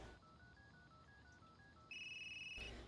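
A phone placing a call in the video game Unheard, with a faint sequence of dialing tones followed by a louder electronic ringing tone, heard alone without talk.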